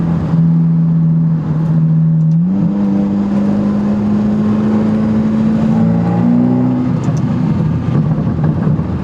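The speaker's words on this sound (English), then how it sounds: "it's got some backfire. It's got some pops." A Ferrari GT car engine drones loudly and steadily, its pitch rising and shifting as it revs, with a few faint sharp exhaust backfire pops near the end.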